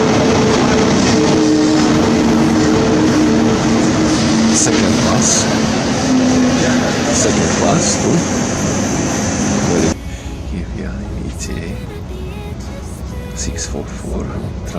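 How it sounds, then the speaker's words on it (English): A loud, steady roar of a German ICE high-speed train in motion, broadband rumble and hiss continuing throughout, with the tone shifting partway as the surroundings change. "The train is continuing to travel towards Düsseldorf"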